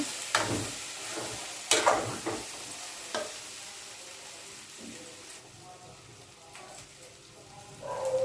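Okra curry stirred in a pan on the stove, a steady close sizzle under scraping spoon strokes, with a few louder knocks and clatters against the pan.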